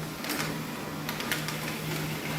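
HP inkjet printer with a refilled cartridge printing a page, a steady mechanical hum with a low drone and short rattling feed clicks, close and moderately loud.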